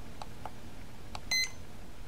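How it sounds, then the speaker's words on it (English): A few soft clicks of a button on an iHome iHM46 dual alarm clock, then a short, clear electronic beep, close by in a quiet room. "I press it again, it beeps"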